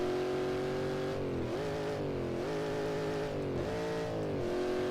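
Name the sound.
Shelby Cobra 427 car driving, from Assetto Corsa video game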